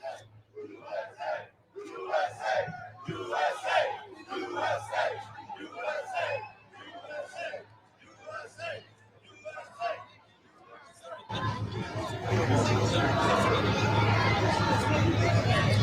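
A loud outdoor crowd in New York City cheers Donald Trump, first rising and falling in bursts of shouting and chanting, then swelling into a sustained roar of voices and noise.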